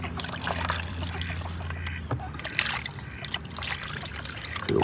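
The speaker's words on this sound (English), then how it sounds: "I'm just going to go and rinse that out with some water" Water trickles and splashes steadily into an old cat bowl, with soft outdoor background noise and a few faint bird sounds.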